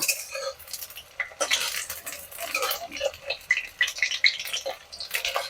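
Spring onion pakoras deep-frying in hot oil give a steady, crackling sizzle with brighter spitting pops, close and moderately loud, along with a few clinks of utensils.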